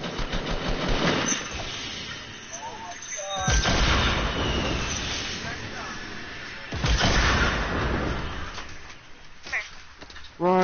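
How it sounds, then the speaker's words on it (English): Heavy gunfire in a video game comes as booming, rumbling bursts at intervals under an engine-like drone, with people talking between the shots. "Yeah, we're getting shot at."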